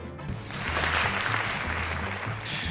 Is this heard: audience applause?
yes